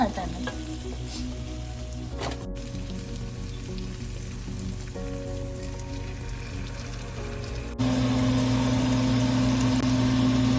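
Mutton sautés in a pan with stock added little by little, giving a continuous close sizzle with stirring scrapes. The frying grows louder and denser toward the end. No voices are heard.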